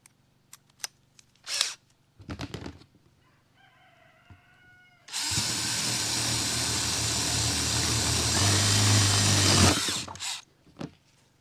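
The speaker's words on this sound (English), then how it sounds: "what I'm gonna end up doing is probably just drill this little section out too" A power drill whirs continuously for several seconds, drilling into a plastic garbage can, loud and close, after a few clicks and handling knocks, then stops with more rattling.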